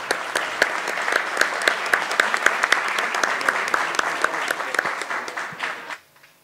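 Audience at a university campus festival gala in Alcoi clapping together, a steady crowded round of applause with dense claps for about six seconds before stopping abruptly.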